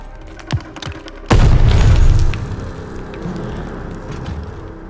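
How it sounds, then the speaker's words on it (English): Grenade blast in the video game Call of Duty Vanguard, a sudden loud boom after a few small thumps, its rumble lasting about a second before fading into background battle noise. "Grenade! Get down!"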